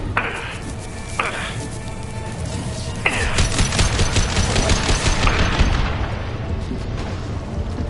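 Rapid gunfire in a PS4 video game, a dense stream of sharp repeated shots over a low rumbling bed, with a few brief bright tonal stabs early on, loud and continuous.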